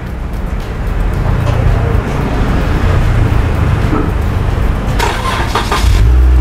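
A Jeep JK engine starts by remote starter, cranking and catching into a steady close idle, with a brief rattle near the end.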